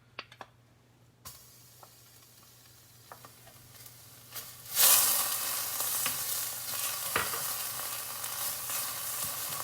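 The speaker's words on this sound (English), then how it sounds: "You want to basically saute this and bring out all the flavors." Curry paste and tomato paste are added to hot canola oil and burst into a loud sizzle that settles into a steady frying hiss. Stirring scrapes come through, and a few quiet clicks come before it.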